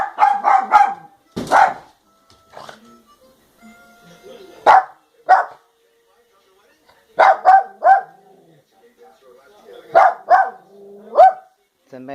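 A dog barks at a closed door in bursts of sharp, loud barks, some in quick triplets, separated by short quiet pauses, with occasional yips between them.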